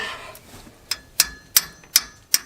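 Five sharp metallic strikes on a box-end wrench, during a Mahindra starter replacement, ring out one after another at a steady pace, each with a bright clang, with no talking.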